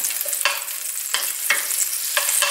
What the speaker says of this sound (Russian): Я люблю, вот когда что-нибудь такое жарить, немножечко сливочного масла и немножечко растительного масла.